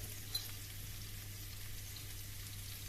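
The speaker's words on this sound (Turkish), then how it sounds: "Burada ben bir kaşık kadar tereyağını erittim." Butter, about a spoonful, melting in a pan on the stove, giving a steady soft sizzle and faint crackle throughout, with one small pop near the start and no voices.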